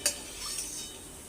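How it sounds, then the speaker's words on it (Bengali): Oil is spread around a hot kadai, opening with a sharp metallic clink followed by soft scraping and a light sizzle, close and fairly quiet, with no talking. "তেলটা এবার আমি গোটা কড়াইয়ে এরকম করে লাগিয়ে দেবো"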